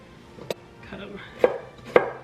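A knife chops carrots on a cutting board in a home kitchen: three sharp, distinct thuds spaced about half a second apart, close and clear, with soft handling noises in between.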